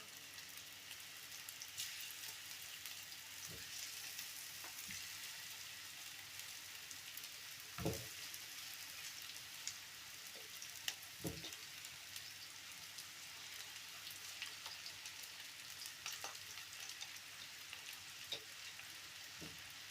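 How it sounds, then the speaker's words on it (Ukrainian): Mushrooms frying steadily in a pan, cooked down for a sauce to go with varenyky: a continuous soft sizzle and crackle with a few louder pops and stirring clacks, close by and with no talking. "Гриби посмажуться, щоб вийшла вся з них вода."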